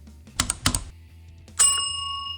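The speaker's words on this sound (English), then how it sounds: "ring the notification bell" A bright notification bell ding rings out after two soft clicks, its clear tone lingering and fading slowly.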